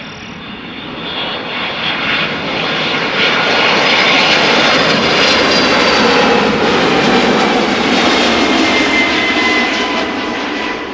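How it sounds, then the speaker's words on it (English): A 23-year-old Airbus A300 freighter jet arrives at Amsterdam Schiphol after a flight from Madrid, its engine roar and whine rising as it passes close and loud, then easing slightly at the end. "Arriving from Madrid, where this airplane left 2 hours 3 minutes ago. Airbus A300 freighter."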